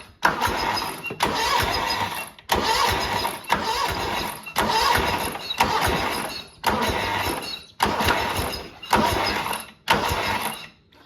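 A big riding lawn mower engine cranks over and over in repeated bursts of about a second each, separated by short pauses, loud and close without catching into a steady run.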